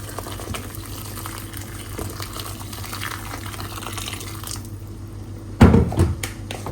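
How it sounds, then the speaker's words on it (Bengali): Steady low simmering hum from a frying pan, then hot water is poured in near the end with a sudden loud splashing hiss that quickly fades. "এখন গরম গরম পানি দেওয়ার পালা।"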